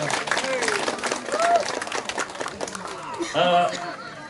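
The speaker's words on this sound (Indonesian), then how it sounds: "Kita berikan dulu aplaus untuk adik-adik dari Sanggar Tapian Indah." An audience claps for a children's arts performance at a community event, with steady applause running under someone speaking over a microphone, and a brief high whistle-like tone near the end.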